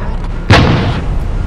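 A tank being shot at in the video game War Machines: a single loud, close cannon-like boom with a short rumbling tail over steady game background noise.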